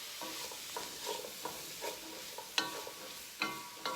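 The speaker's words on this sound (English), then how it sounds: "I'm gonna get those mixed up" A spoon stirs drained white cannellini beans into a pot of soup, making quiet, intermittent scrapes and sharp clinks against the pot at an uneven rhythm, with no voices.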